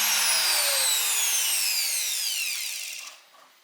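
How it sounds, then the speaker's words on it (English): DeWalt DW621 router running after repair, a loud high whine that slowly drops in pitch as the motor spins down, fading out near the end. "I was happy to find a router working again."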